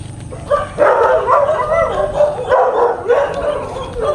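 A dog barks and yips repeatedly at close range, with whiny, howling tones mixed in, over some outdoor background noise.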